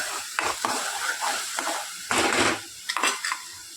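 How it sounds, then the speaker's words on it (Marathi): Masala sautés in a pan with uncooked onion, stirred in repeated scraping, clattering strokes over a continuous sizzle, close and fairly loud, with a longer burst of stirring midway. "आणि हा मसाला छान असा परतून द्यायचा आहे, कारण आपण कांदा भाजलेला नसल्यामुळे हा मसाला परतवायला थोडा वेळ लागणार आहे"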